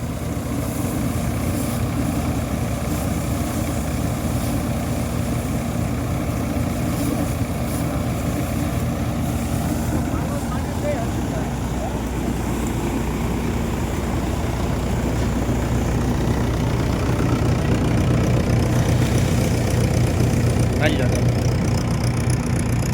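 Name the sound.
two tractors running, groundnut harvest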